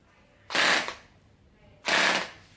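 A WellPro electric airsoft mini gun, 290 fps at 40 rounds per second, fires two short, loud bursts of rapid fire, each about half a second long, separated by a brief pause, with no voices.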